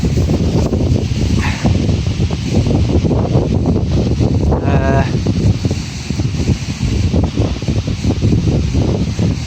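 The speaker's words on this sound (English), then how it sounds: "Hope you can hear me because it is very windy still." Strong wind buffets the microphone while metal detecting in the UK, a loud, continuous low rumble that gusts and roars without a break.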